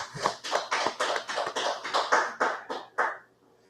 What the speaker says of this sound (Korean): 우리 하나님께 영광의 박수 드리겠습니다